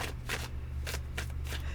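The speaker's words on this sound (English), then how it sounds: "These are sort of hard to shuffle." Tarot cards being shuffled by hand in a few quick, crisp riffling bursts separated by short pauses, close and fairly quiet with no talking.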